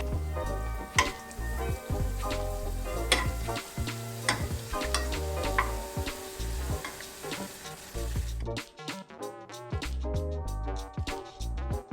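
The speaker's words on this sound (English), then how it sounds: "And then we're ready to fry now. So I'm gonna go back and fry these off." Gulab jamun dough balls frying in hot oil give a steady close sizzle with crackling pops throughout, and the bubbling thins out toward the end.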